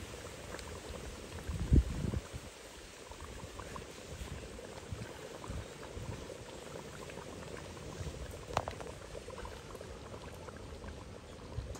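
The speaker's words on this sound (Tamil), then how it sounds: "நான் இப்போ சட்டியில் கறியை கொதிக்க வச்சுட்டேன். இப்போ கறி நல்லா கொதிக்கட்டும்" Meat curry boils in a pot in a continuous close bubbling and simmering, with a steady, even level and one brief louder splash near the start.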